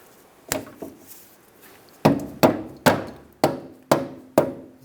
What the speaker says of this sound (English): Just take a dead blow hammer, just give it a couple taps, get it lined up.